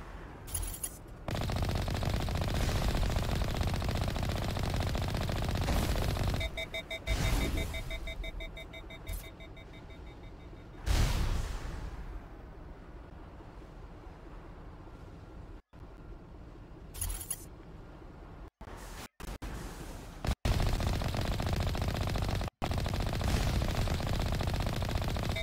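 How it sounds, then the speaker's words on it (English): Video game battle in which rapid automatic gunfire and explosions hit the player's tank, fired by enemies with anti-tank missiles, in sustained loud bursts over a constant rumble, with sharp crackling shots near the end. "Stop shooting my tank."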